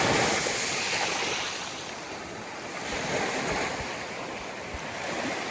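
Waves surge and wash ashore at Juno Beach in France, with steady wind buffeting the microphone; a broad, continuous roar that swells and eases without any voices.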